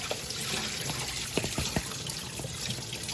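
Tap water runs steadily into a sink as seaweed is rinsed, with a soft, continuous hiss and a few small splashes, nearby and fairly quiet.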